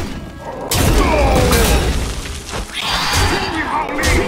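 A portal exploding in the Hearthstone video game, a loud sustained crashing blast with shattering debris and rumbling that continues through the short clip, rising again toward the end.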